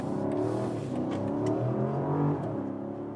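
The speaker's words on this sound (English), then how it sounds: "there you hear the V8 definitely even louder than in the US versions without that petrol engine particle filter" BMW X6 M60i coupe-style SUV with a V8 petrol engine and no particulate filter, revving loudly from close by with a deep, rumbling, shifting engine note and no voices.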